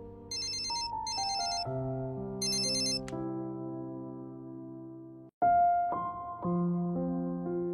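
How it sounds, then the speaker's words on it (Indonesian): A mobile phone ringtone plays a bright, chiming melody with high beeping accents, loud and clear, continuing for several seconds. "Di hotel, tiba-tiba HP-nya berdering."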